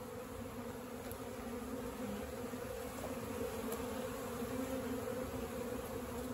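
A swarm of honey bees buzzing around a trap box, a steady, dense, continuous hum heard close by with occasional individual bees passing, no voices.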